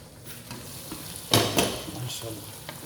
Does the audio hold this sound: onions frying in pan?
yes